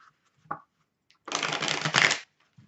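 A deck of tarot cards gets shuffled: a short riffle snap, then a loud, dense burst of cards flicking together for about a second, close and alone.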